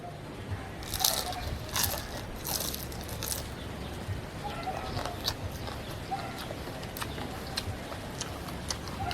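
Crisp crunching bites of fried lumpia (spring rolls), repeated chewing crunches up close, with faint voices murmuring in the background.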